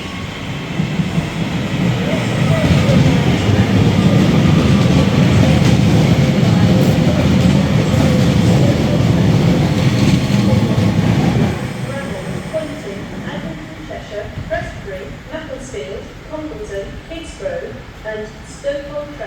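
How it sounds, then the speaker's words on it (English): A three-coach train rumbles loudly through Stockport Station with a steady roar and wheel clatter, then eases off to a quieter rolling sound with faint squeals and clicks. "This train is formed of 3 coaches."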